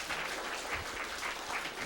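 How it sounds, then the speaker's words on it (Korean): Brief burst of audience clapping in a lecture hall for a Buddhist dharma teacher after a morning doctrine lecture, moderately distant and even, lasting only a couple of seconds. "오전 그 열심히 강의해 주신 법사님께 힘찬 박수 드리면서"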